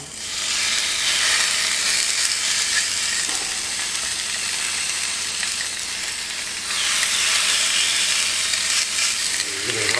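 Chicken thighs, seasoned and oiled, sizzle loudly and steadily on the grate of a Ninja Foodi Smart XL indoor grill, a dense continuous hiss that swells again toward the end.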